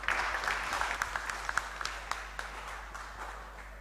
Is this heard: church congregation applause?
yes